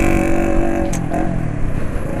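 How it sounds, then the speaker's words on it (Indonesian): Loud, close roar of a noisy motorcycle engine on the road, a steady droning hum with a brief rising rev partway through. "Berisik banget motor ini."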